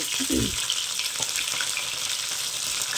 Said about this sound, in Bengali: মাছ ভাজছি, মাছটা ভেজে নেবো